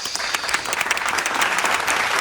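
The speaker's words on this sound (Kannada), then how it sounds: "ಅದಕ್ಕೆ ಚಪ್ಪಾಳೆ" Applause from a film crew celebrating a shot finished in two takes, dense steady clapping from a small group that runs the whole stretch at even loudness with no voices over it.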